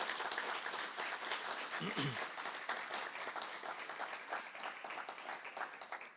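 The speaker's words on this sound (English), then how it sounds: "maybe a bit of a round of applause for your presence" Audience applause for Inge van Balen, widow of the late Hans, at a welcoming event, a dense steady round of clapping across the whole stretch, with a brief voice partway through.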